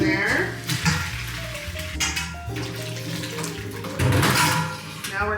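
A pot of pozole meat and broth is dumped through a rice strainer set in a bowl in a kitchen sink, a close, steady gush and splash of pouring liquid with a voice talking over part of it.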